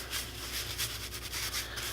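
Hand sanding of poly-coated wood, a soft back-and-forth rubbing with regular strokes, close up and quiet, no voices.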